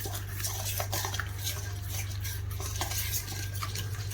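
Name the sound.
mixing soy sauce marinade for pork ribs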